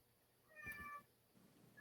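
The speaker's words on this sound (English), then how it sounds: "You can hear Baba meowing now" A domestic cat gives a single clear meow, fairly close and moderately loud, with quiet background before and after.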